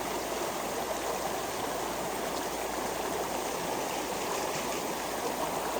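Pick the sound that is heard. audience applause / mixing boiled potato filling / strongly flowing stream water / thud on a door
strongly flowing stream water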